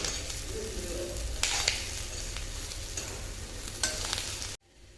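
Potatoes frying with curry leaves in a pan give a steady close sizzle, broken by a few scraping stirs, before the sound cuts off abruptly near the end.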